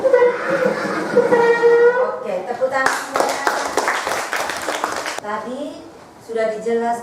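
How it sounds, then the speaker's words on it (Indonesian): Schoolchildren clapping together in a classroom during a science lesson on forces, a brisk, clustered burst of hand claps lasting a couple of seconds between stretches of a teacher talking. "Oke, tepuk tangan semuanya."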